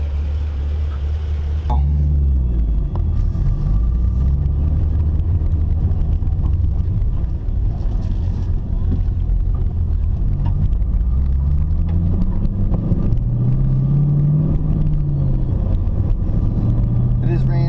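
A Chevrolet Camaro SS with a 6.2-liter LS3 V8 idles and revs in a low, steady rumble, with the pitch rising and falling in slow swells and a voice talking over it.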